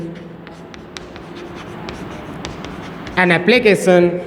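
Marker or chalk scratching on a board during an English lecture, a steady series of short strokes of writing, with a voice speaking near the end.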